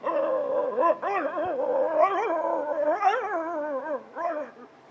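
A voice imitates a dog howling, a long wavering tonal wail that rises and falls in several swells, close and fairly loud, with no other sound.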